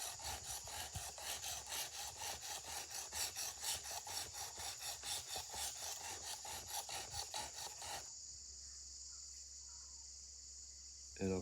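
A Sanrenmu knife is hand sharpened on Shapton ceramic stones, making a loud, steady rhythmic rasp of back-and-forth strokes that stops abruptly near the end, leaving a quiet hiss.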